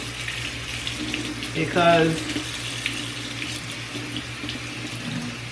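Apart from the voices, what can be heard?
tap water running while washing food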